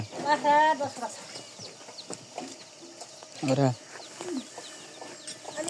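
A hen that has just hatched chicks clucks in a rural farmyard, with short bursts near the start and again in the middle amid other background sounds and talking.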